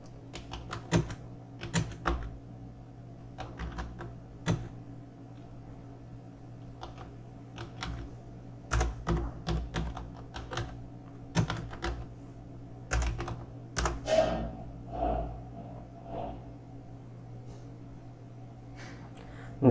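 Clattering keystrokes on a computer keyboard come in irregular bursts and short runs, fairly close, over a steady low electrical hum with no talking.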